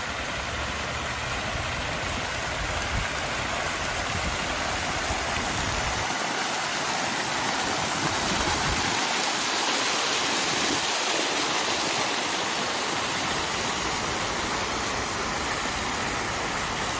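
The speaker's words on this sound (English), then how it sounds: "I just wanted to get a close-up of the waterfall." A waterfall at an apartment pool courtyard roars as a loud, steady, broadband rush close to the microphone, unbroken from start to finish with no talking.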